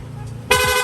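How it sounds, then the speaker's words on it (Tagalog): A loud electric horn on a Yamaha NMAX 155 scooter blasts in abruptly halfway through after a quiet lead-in and holds steady and close until the end. "Sa loud horn, pindutin lang po natin itong horn."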